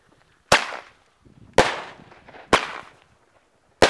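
Thunder Kong Max firecrackers with 41.4 grams of flash composition, set off two at once outdoors, give four sharp, loud bangs about a second apart, each trailing off into a short rumbling echo.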